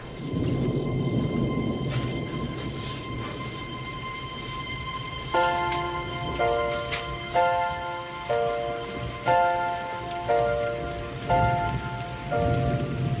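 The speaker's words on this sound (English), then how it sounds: "Gee, I'm glad it's raining." Heavy rain patters steadily on surfaces with rolls of thunder in a scene from the 1987 film Ernest Goes to Camp; partway through, a repeating tonal musical pattern enters over the continuous downpour.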